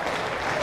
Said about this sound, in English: Gets a really good applause from the Canterbury crowd.